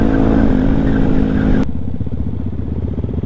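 Kawasaki KLX 250 and Yamaha WR155 motorcycles ride at night between Bandung and Garut, loud engine drone with a sharp drop partway through as the sound shifts to a lower, throbbing rumble; no talk.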